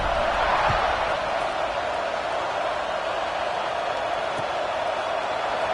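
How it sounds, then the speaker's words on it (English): Stadium crowd at a Penn State–Oregon college football game, a steady loud roar and buzz filling the clip with no break, with a faint thump or two in the mix. "this crowd is buzzing after that last score"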